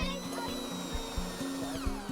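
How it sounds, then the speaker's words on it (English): A power drill bores a hole into a wooden reindeer to take its antlers, a close, short whirring burst with the motor pitch dipping and rising as the bit bites into the wood. "I'm going to drill a hole."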